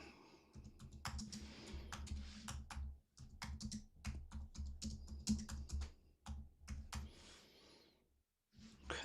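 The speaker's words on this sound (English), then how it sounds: "I just can't type and talk at the same time." Bursts of typing on a computer keyboard, close and fairly loud, with short pauses between runs of clattering keystrokes and a low room hum underneath.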